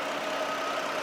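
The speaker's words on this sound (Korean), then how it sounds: "엔진 소리 한번 들려드릴게요" A Genesis sedan with the VIP package and about 90,000 km idles as a steady, low, even engine hum with no revving, quiet and continuous throughout, with no talking.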